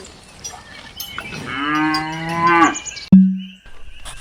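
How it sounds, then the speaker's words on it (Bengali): A single long, drawn-out cow moo, loud and close, followed by a short electronic beep. "কাউ কাউ মানে গরু"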